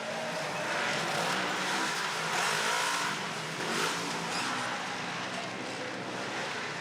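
A racing off-road vehicle's engine roars and revs continuously through the final turn of the Glamis desert race finale, heard at a distance with a washed-out, crowd-and-wind ambience.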